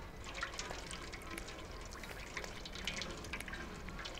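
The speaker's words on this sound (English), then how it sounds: "Let's drink some water." Cat lapping water in the video game Stray, a quiet run of soft wet drips and splashes at a steady pace, faint and close.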